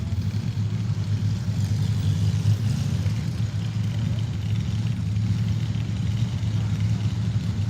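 Blown small-block mud rail and the Sidewinder Jeep idle and rumble together on a drag strip, a steady loud low engine drone with no speech.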